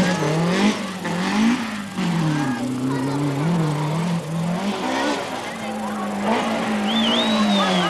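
A 1990 BMW M3 rally car in a handbrake slide, its engine loud and revving with a constantly wavering pitch throughout, and a brief high squeal near the end.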